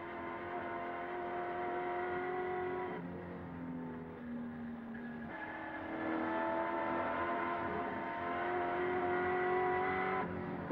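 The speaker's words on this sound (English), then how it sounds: "Gear change for Peter Brock as he moves up to Toledo Tools' turn, brings him up to the top of the mountain" A race car engine at Bathurst in 1986 drones loudly and steadily as the car climbs the mountain, its pitch dropping briefly at two gear changes before rising again.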